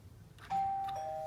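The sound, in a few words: front doorbell being tested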